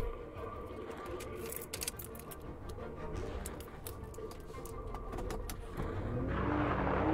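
A car pulls away and drives off in a Siren Head horror game, its engine a steady low drone that swells louder toward the end, with faint ticking and bird-like chirps in the background.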